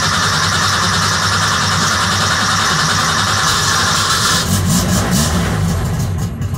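A Volkswagen Beetle air-cooled engine fitted with a Weber carburetor runs steadily at a loud, close, even idle, its drone holding level for several seconds with a slight rise near the end.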